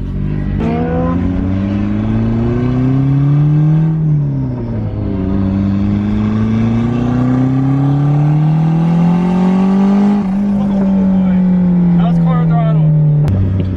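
Turbocharged Mazda Miata engine revving hard on a test drive, pitch climbing, dropping at each shift and climbing again through the gears, loud and close throughout.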